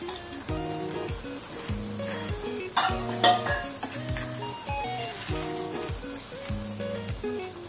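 Goat brain gravy sizzles and bubbles in a pan while a spoon stirs and scrapes in repeated strokes, with soft background music and no speech.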